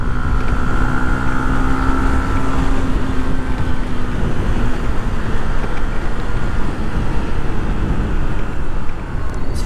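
A motorbike weaves through city traffic past potholes, pedestrians and buses. A loud, continuous engine drone with heavy wind buffeting holds steady for the full stretch, and no voices stand out.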